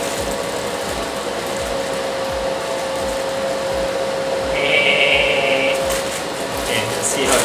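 Dual-fan spray booth running with a steady broadband whir and a constant mid tone, loud and close, with a brief higher whine joining partway through.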